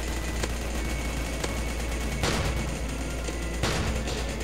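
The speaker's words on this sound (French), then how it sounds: "Alors, on a maîtrisé les mitraillettes cette fois? Allez, on tire à tout, ouais." Machine gun fire in the Roblox game Zombie Attack, a continuous dense crackle of rapid gunshots with a few sharper bursts standing out, loud and steady throughout under game noise.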